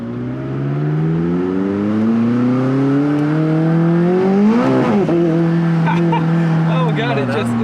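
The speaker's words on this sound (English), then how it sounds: "Oh god, it just spun the back tires." McLaren 600LT revving and accelerating hard with rear tires spinning, a loud close engine note climbing in pitch, briefly wavering mid-pull, then settling into a steady high drone.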